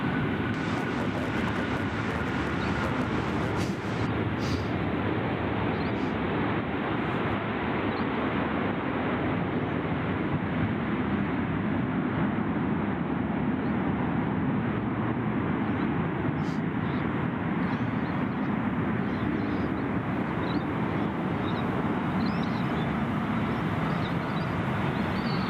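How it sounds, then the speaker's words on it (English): Jetstar airliner touching down at Gold Coast Airport, a steady broadband jet roar that holds loud and constant throughout, with no talk over it. "There we go, Jetstar 406 just getting over the fence there,"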